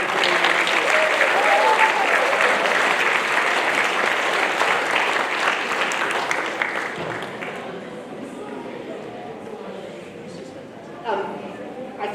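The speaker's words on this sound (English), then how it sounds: "We give them all a massive round of applause." Loud, dense applause from an audience at a junior and youth football club awards presentation, sustained for several seconds and then tapering off to a softer patter of scattered claps.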